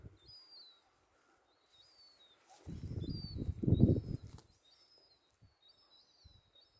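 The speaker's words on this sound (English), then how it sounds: "Can you see the seagulls, lads?" Seagulls nesting on coastal cliffs in Ireland, heard from above: repeated faint high calls in a steady series, with a louder burst of rustling wind or handling noise in the middle and no talk.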